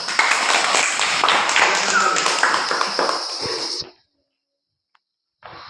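Classroom audience clapping hands together, a dense burst of many claps lasting several seconds before stopping abruptly into silence, with a faint voice afterward.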